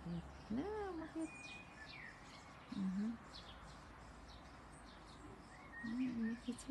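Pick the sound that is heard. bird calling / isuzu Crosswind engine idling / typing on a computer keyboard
bird calling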